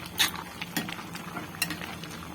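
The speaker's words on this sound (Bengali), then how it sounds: "এদিকে ভালোভাবে একটু নেড়ে নিলাম" Cooked raw mango pieces stirred in a wok, giving soft scrapes and a few sharper clinks of the utensil against the pan over a quiet background, close by with no talk.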